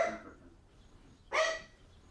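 A dog barks indoors near a film playing, two separate barks, the first fading at the start and a sharper, louder one just after the midpoint, with no talk.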